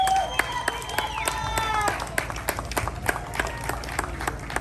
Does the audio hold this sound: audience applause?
yes